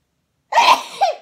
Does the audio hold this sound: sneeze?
yes